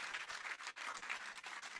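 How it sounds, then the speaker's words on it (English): Steady, dense applause from a conference audience at an entrepreneurship policy dialogue rolls on without pause, soft and distant, with a brief dip in the middle. "Please, let's continue with a clap."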